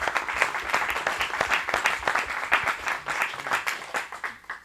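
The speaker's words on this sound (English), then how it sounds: "everybody give everybody else a round of applause." An audience at a talk about love and Meher Baba breaks into sustained applause, dense clapping rising and falling in waves throughout, close and loud with no speech.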